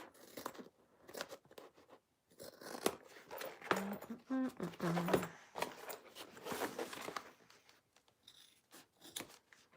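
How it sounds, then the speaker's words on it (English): Scissors snip repeatedly through fabric while trimming a sewn mini backpack, close crisp irregular cuts in short bursts with brief pauses between them. "So I'm just going to trim this down."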